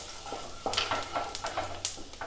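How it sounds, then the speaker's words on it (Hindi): Whole cumin seeds fry in hot oil and butter for shahi paneer: a steady sizzle broken by light crackles and pops, close and moderately loud. "जीरा को कुछ सेकंड्स भून लीजिए।"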